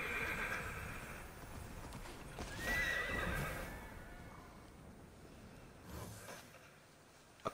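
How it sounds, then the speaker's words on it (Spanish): A horse trots and neighs in the video game Immortals Fenyx Rising, with a whinny and steady clip-clop hoofbeats at moderate volume over ambient game background and no speech. "¡Ah, la madre caballo!"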